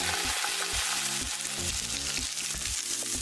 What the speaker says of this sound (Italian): Versate l'olio in una padella riscaldata e metteteci le cipolle.